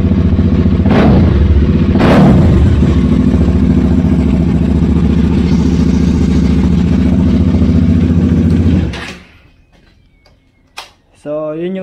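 A motorcycle exhaust blares loudly at close range, with two sharp rev blips early on over a rough, steady roar that then cuts off abruptly, leaving near quiet and a few small knocks.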